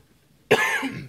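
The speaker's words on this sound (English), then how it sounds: "Excuse me, coming down with a cough or something." A single sharp cough close by, a sudden burst that trails off into a short raspy exhale.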